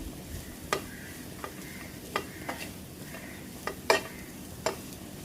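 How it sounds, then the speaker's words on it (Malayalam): Chicken roll filling with pepper powder being sautéed in a pan, giving a soft steady sizzle broken by several sharp scraping clicks of a spatula stirring at irregular intervals, close and fairly quiet, with no voices. "ലാസ്റ്റ് നമ്മൾ പെപ്പർ പൗഡർ ഇട്ട് നന്നായിട്ട് സോട്ട് ചെയ്ത് കൊടുക്കണം ഇനി നന്നായിട്ട് നമുക്ക് സോട്ട് ചെയ്യാം"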